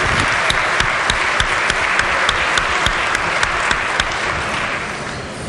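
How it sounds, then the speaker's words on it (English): Applause in a West Virginia legislature chamber honoring a teacher, a loud sustained clapping from many people with a few sharper nearby claps, tapering slightly at the end. "So please give him a round of applause."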